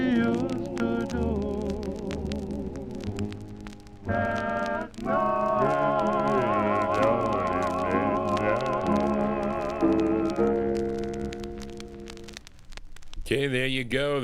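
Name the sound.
doo-wop record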